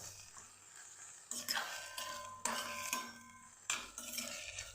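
A spatula scrapes and clatters in a pan while a brinjal bharit mixture of mashed roasted eggplant is sautéed at home, giving several sharp metallic strokes in an uneven rhythm close by.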